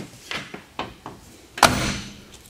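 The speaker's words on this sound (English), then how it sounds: "One finger shut that door." A 1967 Pontiac Firebird 400's car door closes with a solid, close thunk, heard after a few lighter taps and clicks, with no talk over it.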